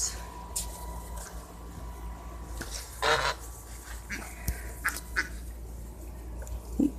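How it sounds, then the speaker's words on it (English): Farmyard geese and ducks honk and quack in short, scattered calls at moderate distance over a low background hum. "That goose is Schofield."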